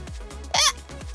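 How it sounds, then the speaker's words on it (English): A single sharp, high-pitched hiccup pops out midway, brief and loud, between quieter low vocal sounds. "Sorry, that was a hiccup."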